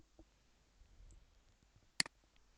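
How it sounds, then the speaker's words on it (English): A single sharp computer mouse click rings out after a quiet stretch, near and crisp, with a faint secondary tick right after. "Just click generate after that."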